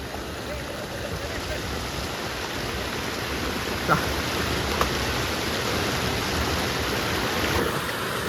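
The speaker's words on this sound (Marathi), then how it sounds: "पाण्याला फ्लो मस्त आणि ॲक्च्युली वाहता पाण्यात आहे" Continuous rushing of a flowing village river fills the scene at a steady level, with a couple of brief knocks and faint voices in the background.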